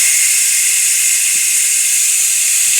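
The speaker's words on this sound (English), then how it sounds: "We're going to let the rest of the pressure escape now." Steam hisses out of a Ninja Foodi pressure cooker as its pressure is released, a loud, steady, unbroken high-pitched jet of sound lasting throughout.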